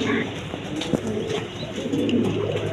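Large, high-quality pigeons cooing softly amid a busy, steady background hum, with someone talking over them.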